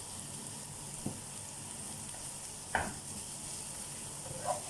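Sausage noodles frying in a pan give a steady soft sizzle, broken by a few brief stirring scrapes and taps, alone without talk.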